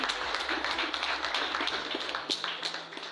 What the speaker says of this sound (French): le généreux et désintéressé Babacar Wilane, que je vous demande d'applaudir